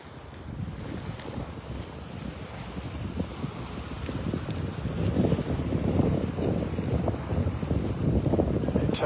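Ocean waves washing onto the sand at Pelican Bay in North Naples, Florida, with the tide going out; a steady broadband surf wash with heavy wind noise on the microphone, swelling slightly louder toward the end, and no talking.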